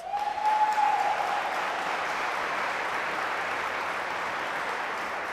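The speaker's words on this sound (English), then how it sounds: "Let's give them a round of applause." An audience at a high school athletic awards ceremony applauds, a broad sustained wash of many hands that swells at the start then holds steady and fairly distant, with a brief tone sounding early on.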